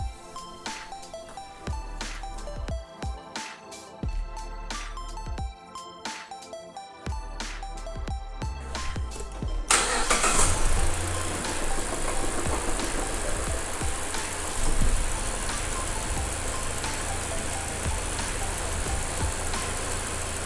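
2014 Mazda6 engine after an oil change: a few clicks and knocks, then the engine starts and settles into a steady, close idle that runs to the end.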